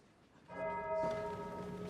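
A bell starts ringing at the end of a class, a steady bright tone holding for over a second, moderately close, with no voices.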